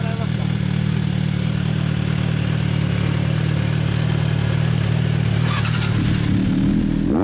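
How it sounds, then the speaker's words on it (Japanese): A 2013 MV Agusta Brutale 1090 RR fitted with a full exhaust runs steadily close by, its engine and exhaust giving a loud, continuous drone. Near the end the tone shifts, as if the throttle is blipped. "ごめん、WR でのエンジン音聞かせてもらえますか。"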